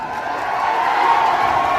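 A large crowd at an outdoor election rally in Bihar roars and cheers in a dense, steady wash of voices and clapping, loud and sustained, with no individual speaker standing out.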